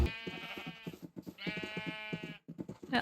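Sheep in Minecraft bleating, two drawn-out wavering bleats close by and quiet, separated by a short pause.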